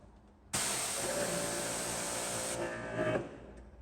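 A Grandfalls Pressure Washer Pro starts abruptly and runs with a steady, fairly quiet whirring hiss, holding level for a few seconds before its pitch shifts and the motor winds down.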